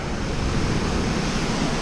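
A waterfall roars as steady, dense broadband rush with no breaks, loud and continuous, with some wind buffeting across the microphone.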